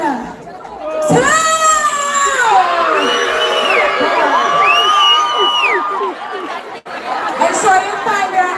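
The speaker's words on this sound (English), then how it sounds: "when I get to two, you're going to put them up and just scream" Graduating students at a high school ceremony scream and cheer together in a loud, sustained burst of whoops and shrieks that fades toward the end.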